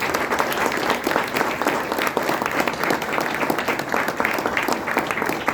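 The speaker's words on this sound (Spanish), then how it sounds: "Un aplauso para ellos, por favor." Dense, sustained audience applause at a tribute event at the Fonoteca Nacional, many hands clapping steadily and loudly for several seconds, with a faint murmur of voices beneath.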